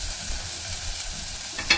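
Saluyot (Egyptian spinach) adobo with ginger sizzles on the heat, a dense continuous frying hiss with a faint stir toward the end.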